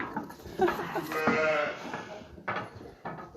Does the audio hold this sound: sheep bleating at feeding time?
yes